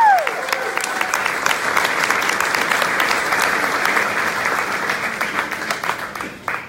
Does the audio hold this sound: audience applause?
yes